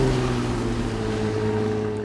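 A deep 530-horsepower V8 engine of an armoured BMW X5 rumbles loudly and steadily nearby, its low, even growl holding without pause.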